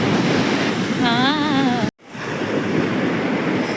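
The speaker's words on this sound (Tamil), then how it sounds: "கொஞ்சம் அலை பயங்கரமாக இருக்குது" Ocean waves break and wash onto a beach in Pondicherry, a steady loud roar of surf with wind buffeting the microphone, briefly cut out midway.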